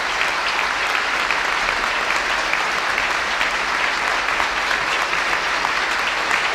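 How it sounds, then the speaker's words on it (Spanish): A standing audience at the Teatro Campoamor in Oviedo applauds during the Prince of Asturias Awards ceremony, a dense, sustained ovation of many hands clapping steadily throughout, with no voices. "Los asistentes al Teatro Campoamor de Oviedo se han puesto de pie para aplaudir al Príncipe de Asturias"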